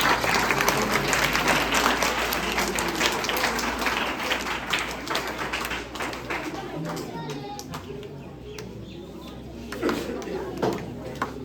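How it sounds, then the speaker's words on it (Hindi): A children's audience at a magic show claps in a dense, loud burst that thins into scattered claps, with voices murmuring underneath. "आपको अच्छा लगे तो ताली जरूर बजानी।"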